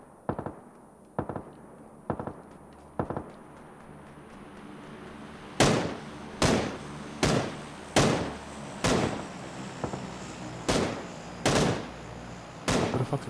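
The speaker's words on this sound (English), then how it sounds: "We're hearing a lot of gunfire," Gunfire in the battle royale game PUBG: irregular single shots, some fainter and farther off, then a series of louder, sharper cracks spaced about a second apart, with no talk over them.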